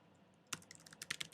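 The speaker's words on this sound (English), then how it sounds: "you are going to want to type in the web address" A quick burst of keystrokes on a computer keyboard as a web address is typed, soft clicks in a fast uneven run after a brief quiet moment.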